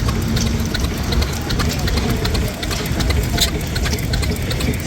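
A 2-cylinder standard gas engine with a spinning governor weight runs steadily at a show, a loud continuous mechanical chugging with rapid regular ticks throughout, no voices heard.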